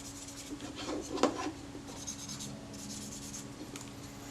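A cloth rubs and wipes across the outside glass surfaces of a camera lens, giving soft, close scratchy strokes, quiet and intermittent, with one slightly louder swipe early on and no talk.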